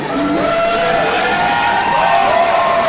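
A wrestling crowd at a GLWA show cheers steadily for Brittany Kay, a loud, sustained roar of voices with whoops rising over it.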